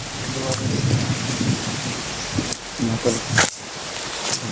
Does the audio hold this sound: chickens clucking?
no